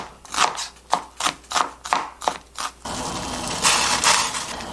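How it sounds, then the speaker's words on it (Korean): An onion is finely chopped on a board with a knife, about eight crisp evenly spaced chops close up, followed by a softer scraping rustle. "양파는요, 가능하면 좀 잘게 썰어주겠습니다."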